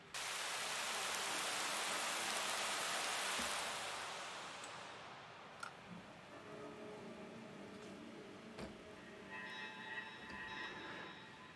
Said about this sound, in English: And something else for the sample here, for example, rain.